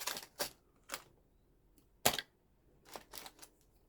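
A homemade stencil being cut out with quick, sharp snips, a handful of crisp isolated cuts spaced irregularly, close and fairly quiet with no talking.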